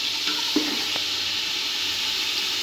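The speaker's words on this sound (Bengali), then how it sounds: "এই তেলের ভিতরে অল্প করে নেড়ে ছেড়ে ভেজে দিচ্ছি, ব্রাউন শেক করে ভেজে দিচ্ছি।" Vegetables fry in hot oil left from browning onions for a mutton leg-piece basmati biryani, a steady close sizzling hiss with a couple of faint clinks, no talking.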